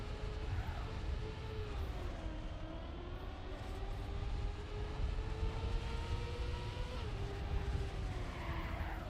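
A car drifting in the racing game Trackmania, with a steady loud engine whine whose pitch bends and slides over a continuous rumble of tyre skid.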